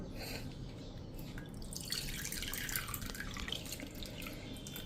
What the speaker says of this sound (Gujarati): એમાં 1 વાટકી જેવું આપણે પાણી નાખી દેશું